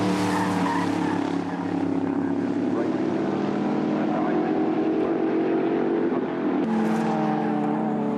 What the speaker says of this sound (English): There's the Bolwell going through there of Chris Camp.